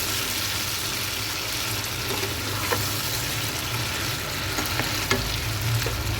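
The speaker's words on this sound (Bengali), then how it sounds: "ভালো করে নাড়াচাড়া করবো আমি এটা চিকেনটাকে" Chicken pieces stirred in a hot frying pan for posto chicken, a steady sizzle of frying with scraping stir strokes and a few clacks of the spoon against the pan, close and continuous with no talk.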